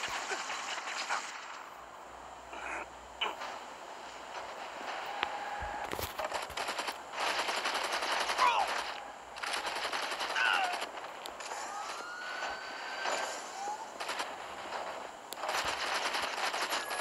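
DE-45 pistol fire in the video game Gangstar Vegas: repeated sharp shots and bursts over a busy game background, scattered across the whole stretch with brief lulls.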